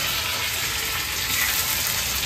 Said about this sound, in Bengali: দেখি টমেটো ভাজো, নাড়াও।